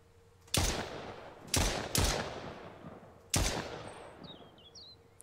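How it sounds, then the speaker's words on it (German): Gunfire in the survival video game Mist Survival: four loud, sharp shots ring out at uneven intervals, each leaving a decaying echo, with faint bird chirps near the end. "Weil ich höre die Schüsse, nur ich sehe sie nicht auf mich einprasseln."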